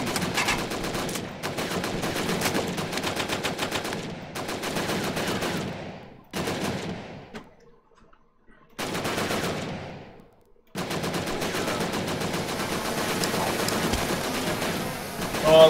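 Automatic gunfire and bullet shots from the VR shooter game Operation Warcade, loud dense bursts of rapid fire broken by two short pauses, then a sustained barrage to the end.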